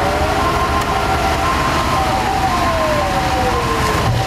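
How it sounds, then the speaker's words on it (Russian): Airport fire engines with sirens wailing during an emergency drill at Sochi airport for a burning aircraft, their gliding siren tones sliding downward over a loud, steady rush of engine and spraying noise. "Аэродромные пожарные машины заливают пламя пеной."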